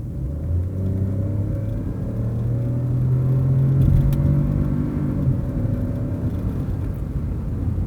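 Peugeot 2008 with a 1.2-litre three-cylinder turbo petrol engine (130 hp) accelerating, heard from inside as a steady, loud low engine drone whose pitch rises gradually across the run, with no talking.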